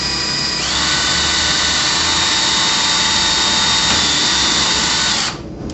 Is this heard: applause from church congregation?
no